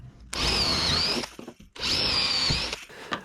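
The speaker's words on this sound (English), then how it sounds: "I'm using the drill block with a 6mm bit" A power drill with a 6mm bit bores through clamped wooden stool frames on a bench in two sustained whining bursts separated by a short pause, close and loud with no talking.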